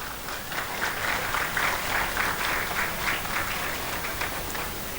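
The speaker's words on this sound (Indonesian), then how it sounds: "Mohon tepuk tangannya." An audience at a school graduation and haul ceremony applauds, a steady wash of clapping sustained for several seconds, moderately distant and without talk.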